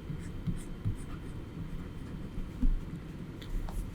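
Pen or pencil scratching out a handwritten math solution, with faint intermittent strokes and taps over a quiet room tone, and no voice.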